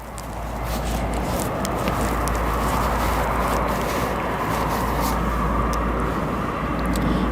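A 21-and-a-half-year-old Boeing 747-400 jet at O'Hare airport, Chicago, produces a loud, steady engine roar that builds quickly and then holds as a constant broadband rumble with no talk.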